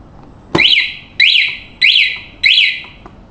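A car alarm sounds four times in a steady rhythm, each loud burst a shrill, warbling tone that rises then falls before a short pause.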